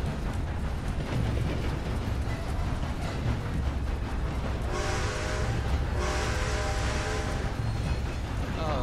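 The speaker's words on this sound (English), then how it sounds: "The whistle is like, I'm coming, get the hell off the tracks." A steam locomotive whistle in the Red Dead Redemption 2 video game sounds in two long blasts over the steady rumble of the moving train, fairly loud and close.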